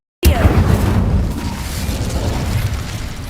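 An Incendio fire spell in the video game Hogwarts Legacy goes off with a sudden loud blast out of silence, followed by a rumbling, crackling roar that slowly tapers.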